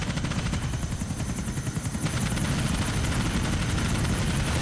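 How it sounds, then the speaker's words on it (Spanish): A helicopter in the video game GTA IV: The Lost and Damned keeps up a loud, steady rotor chop with dense rhythmic thumping and a whining engine drone, close and unbroken, with no talk. "Y es un helicóptero indestructible"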